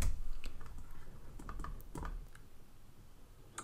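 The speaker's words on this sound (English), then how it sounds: "If I double click on it and then play it" A computer mouse clicks at a desk: several sharp, light taps scattered across a quiet room, close to the microphone with faint background hiss.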